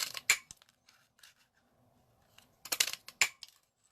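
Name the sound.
cutting paper for a card with scissors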